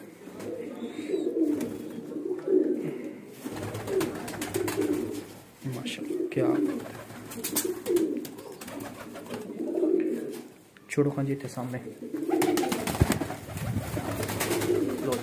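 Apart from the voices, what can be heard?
teddy breeder pigeons cooing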